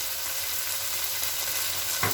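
Chicken mince frying hard on a high flame in a pan, a steady close sizzle running the whole way with a brief stir or scrape near the end.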